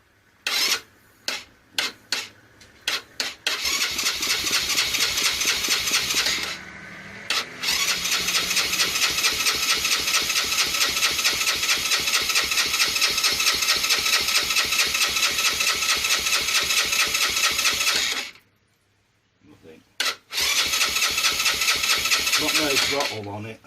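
A seized Sinnis 125 Max, a Chinese Qingqi QM125 motorbike, cranks with several short bursts, then its starter grinds in long sustained runs, broken by brief pauses, loud and close.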